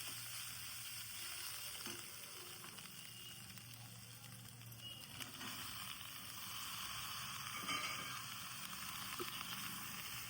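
Brinjal sizzles steadily in a frying pan with dry prawns and onion, a constant faint hiss and crackle with occasional light stirring clicks.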